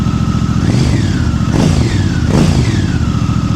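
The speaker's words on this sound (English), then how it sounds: "That's how it should sound. Not too loud, not too obnoxious, just right" A Honda Africa Twin motorcycle engine idles with a deep, steady rumble, then blips the throttle twice into short revs through a throaty Fuel aftermarket exhaust with the baffle removed, close up.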